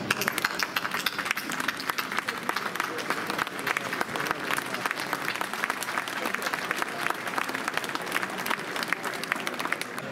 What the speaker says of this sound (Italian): da questo palco vogliamo farvi un grandissimo applauso